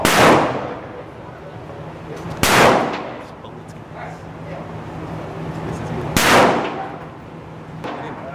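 A real gun fired by a first-time shooter, three loud sharp shots spaced a few seconds apart, each followed by a brief ringing decay, with a fainter pop near the end.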